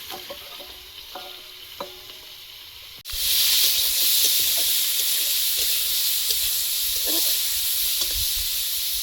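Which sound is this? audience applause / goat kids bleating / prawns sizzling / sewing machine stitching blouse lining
prawns sizzling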